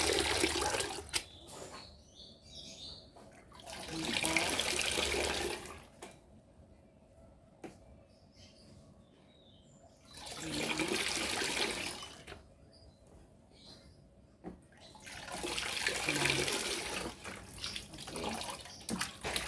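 Water pours and splashes over Aglonema roots during repotting, rinsing soil away in three loud bursts separated by quieter gaps with soft dripping and handling noises.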